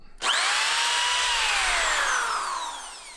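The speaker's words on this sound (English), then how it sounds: "I'm going to use my DeWalt hammer drill, plug it in, and see if we have power" A corded DeWalt hammer drill whirs up from silence to full speed and runs steadily, a loud close motor whine that shifts pitch slightly as it settles, with no load on the bit.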